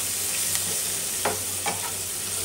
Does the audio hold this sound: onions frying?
yes